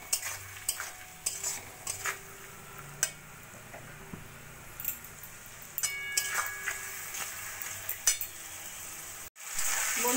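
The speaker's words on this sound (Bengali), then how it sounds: "এবার ভালো করে মশলাটা কষিয়ে নেব" Spices and chopped tomatoes fry quietly in a pan with salt, turmeric, cumin and chili powder, a soft sizzle broken by the scrape and tap of a spoon stirring.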